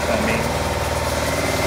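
A sailboat's engine runs at full throttle while the barnacle-fouled propeller holds the boat to about two knots, a steady, loud, rhythmic diesel drone throughout.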